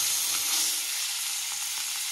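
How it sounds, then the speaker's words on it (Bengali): Hilsa fish frying in oil in a village kitchen makes a steady, close sizzle that eases slightly partway through, with no one speaking. "আমি ফার্স্টে ইলিশ মাছটা ভেজে নিচ্ছি"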